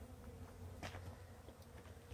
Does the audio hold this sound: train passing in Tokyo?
no